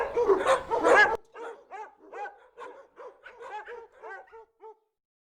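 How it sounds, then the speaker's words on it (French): A pack of hunting dogs barks and yips, a dense burst of loud barking at first, then a string of separate barks and whimpering yelps that fade off. "la meute de chiens ne le reconnaissent pas"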